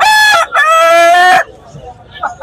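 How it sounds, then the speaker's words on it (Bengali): A rooster held in someone's hand at a bird market crows loudly and close, one long strained crow followed by quieter background murmur. "দর্শক শুনতে পেলেন মোরগটি হাতে বসে কিন্তু ভাগ দিচ্ছে।"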